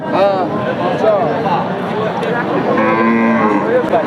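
A milking cow moos loudly nearby at a cattle market, a long drawn-out low call, amid a busy background of people talking.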